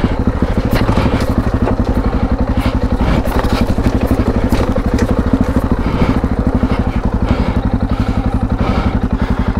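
An adventure motorcycle rides off-road over big roots in a Belgian forest, its engine a loud, close, pulsing drone with steady rapid firing beats and occasional clattering thumps.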